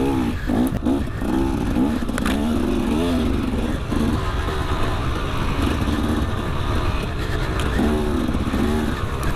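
A motocross motorcycle races into a sandy turn at an NCHSA Windy Hill MX event, its engine buzzing loud and close without a break, pitch wavering as the rider works the throttle through the corner.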